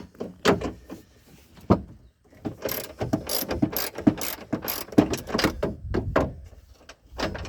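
Loosening the last bolt on a chuckwagon door frame with a ratchet: close, irregular bursts of clicking pawl action and metallic rattles, pausing between turns, with no speech.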